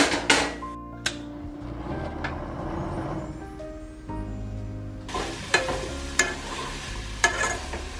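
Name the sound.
apples with cinnamon and sugar cooking on the stove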